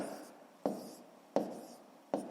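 A pen writes numbers on paper while working a fifth-grade math division problem, making soft scratchy strokes with three distinct taps at regular intervals, close and quiet, with no talking.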